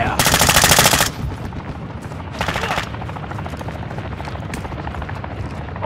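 Gunfire and helicopter noise in the video game Call of Duty: Modern Warfare II: loud bursts of automatic fire at the start and middle sit over a continuous rotor drone, with scattered single shots.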